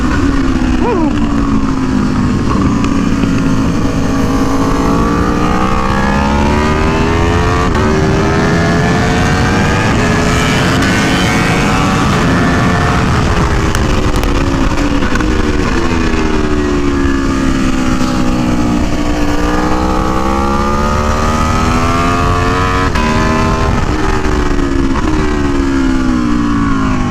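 An Aprilia Tuono V4 1100 Factory motorcycle accelerates hard on the Buttonwillow Raceway track, its loud V4 engine rising and falling through gears in long sweeping revs with steady wind roar, close and continuous throughout.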